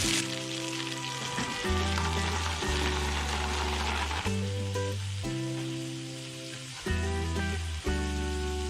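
Cockles sizzle steadily in a hot frying pan for a shellfish linguine, a loud, continuous hiss and crackle, with bursts of tonal music running alongside.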